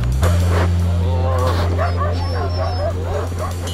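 Young sled dog puppies whimpering and yipping close up in a series of high, wavering cries over a steady low hum, with people talking nearby.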